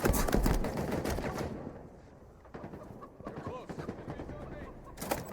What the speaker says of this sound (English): Got a Covenant weapon and decided to use it